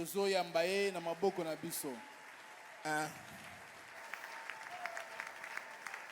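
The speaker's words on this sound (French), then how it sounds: "Nous le recevons sous nos acclamations." A church congregation applauds to welcome Pastor Moïse before a sermon: someone speaks first, then soft, diffuse clapping continues at a low level.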